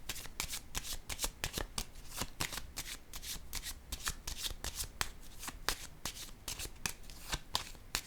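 Tarot cards are shuffled in a rapid run of crisp riffling flicks, close and steady throughout, with no one speaking over them.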